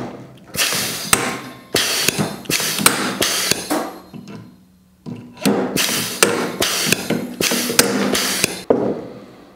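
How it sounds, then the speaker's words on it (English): A Huck 2025 pneumatic tool installs 1/4 inch steel HuckLock rivets in varying material thicknesses, producing a series of sharp, loud bursts of hiss and clunk, roughly one per second, in two runs separated by a brief pause. "The fasteners that I'm now going to install are 1/4 inch HuckLock rivets, which are steel, and are being installed in varying material thicknesses."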